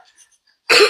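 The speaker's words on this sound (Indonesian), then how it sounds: "Bisa batuk. Keselak ya." A single sharp, loud cough from someone choking on a drink bursts out after near silence.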